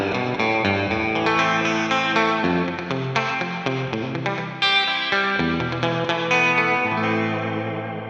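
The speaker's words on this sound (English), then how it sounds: "We have reverb, so we can make it more wet." An electric guitar plays through a TONEX ONE amp-modeling pedal with reverb added, continuous distorted, chorus-tinged chords and notes ringing loud and wet with a lingering tail, no voice.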